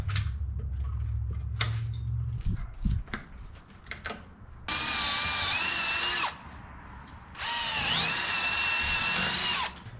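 A power drill bores rubber out of a chassis bushing on a 1961 Chevrolet Bel Air wagon, running in two loud sustained bursts after some clanks and taps of handling.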